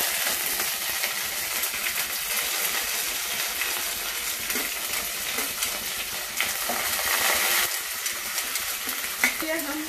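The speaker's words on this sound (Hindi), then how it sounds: "तेल गरम हो गया है, हम जीरा डालेंगे, हम कड़ी पत्ता डालेंगे" Cumin seeds and curry leaves crackling in hot oil for sabudana khichdi, a dense continuous sizzle with fine popping throughout, no voices.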